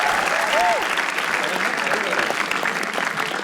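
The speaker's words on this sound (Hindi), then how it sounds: "तालियां एक बार रोहित सिंह के लिए।" Audience applause at a comedy roast battle show: dense, steady clapping from a crowd fills the whole stretch, loud and continuous, with a voice briefly heard over it.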